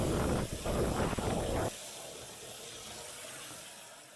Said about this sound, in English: fill this up to where the water recircs